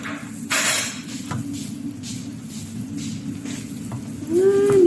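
Coconut cream cooking down into latik for biko, a steady close-up sizzle and bubbling in a pan, with a brief louder scraping burst early on and a short tonal sound near the end.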